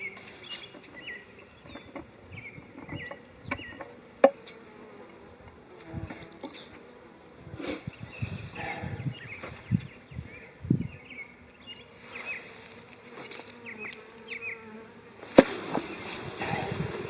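A small honeybee swarm buzzes faintly outdoors, with individual bees flying past close by while the steady hum sits in the background. Occasional thumps and rustles break in, and a few birds call; no one speaks.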